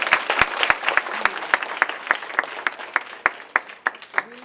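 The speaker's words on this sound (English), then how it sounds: "So can we give them a big round of applause?" A crowd claps enthusiastically, a dense burst of applause with sharp individual claps standing out, fairly close and sustained throughout.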